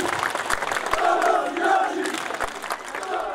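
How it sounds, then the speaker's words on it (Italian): Crowd outside Palermo cathedral chanting stadium-style chants at the funeral of footballer Totò Schillaci, a rough, rhythmic mass of voices with scattered claps, moderately distant and sustained. "Cori da stadio per l'ultimo viaggio di Totò Schillaci."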